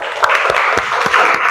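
A classroom of students claps in a short, loud burst of applause, close and slightly uneven, with no talking over it.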